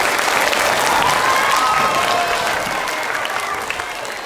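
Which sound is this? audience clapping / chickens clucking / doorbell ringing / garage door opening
audience clapping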